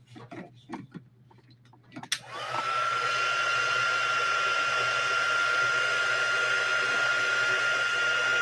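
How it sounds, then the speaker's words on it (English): An embossing heat tool switches on with a click after a few soft taps, then blows steadily and loudly with a constant whirring hiss and a faint high whine, heating embossing powder on a card up close. "let me heat this up and we'll color it up"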